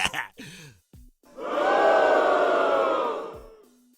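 In the visual novel game SinSations, a hostile crowd erupts in a swelling, sustained jeering roar that peaks and fades over a couple of seconds, preceded by brief voiced game sounds.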